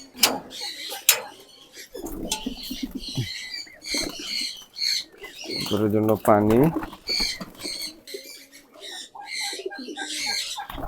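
Pigeons coo in a home loft on an Eid morning while their keeper waters and feeds the animals, with a brief harmonic call standing out among scattered chirps, rustling and a voice speaking throughout.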